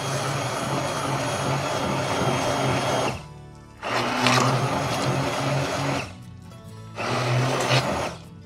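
A blender purees kale pesto seasoned with salt and pepper, running loud in three bursts with two short pauses between them, no voices.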